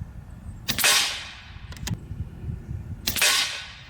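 Air rifle firing FX Atomic exploding pellets outdoors, two sharp cracks about two and a half seconds apart with a faint snap between them, over quiet background rustle.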